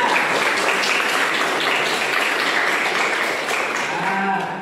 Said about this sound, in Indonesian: Tepuk tangan karena sudah siap semua.